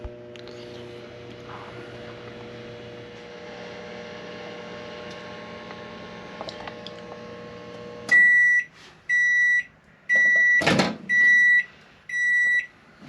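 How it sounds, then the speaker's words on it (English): Microwave oven heating a plate of barbecue: a low steady hum runs for several seconds and stops, then a loud series of evenly spaced electronic beeps follows, broken by one brief clunk. "Set it in the microwave for a couple minutes."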